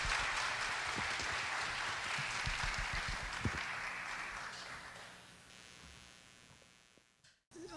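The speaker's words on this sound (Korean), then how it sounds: "큰 박수로 저희 그 유준상 원장님을 맞아주시면 감사하겠습니다." Audience at a security conference opening ceremony clapping to welcome a speaker, a dense crowd applause that gradually thins and fades away into quiet room tone.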